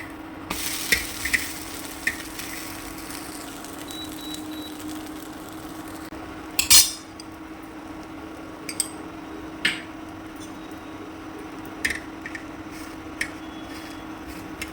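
A dosa cooking on a hot tawa with oil, flipped with a ladle: a steady soft sizzle runs throughout, broken by a few sharp metallic scrapes and clinks, one louder scrape near the middle, with no talk.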